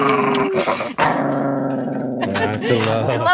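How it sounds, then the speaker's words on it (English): A dog growls and barks loudly and close, with rough snarling and sharp yips, while people talk and laugh over it. "I love my crazy spider dog."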